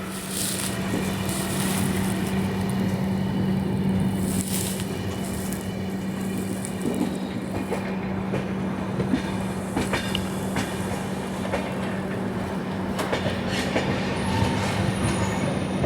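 The Vidarbha Express passenger train runs near Bhusawal Junction, with a steady loud rumble of wheels on rails, rhythmic clickety-clack over joints and occasional squeals, heard continuously from on board.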